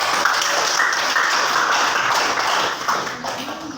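Students clapping in a classroom during a social studies lesson, a dense, steady burst of many hands that tapers slightly near the end.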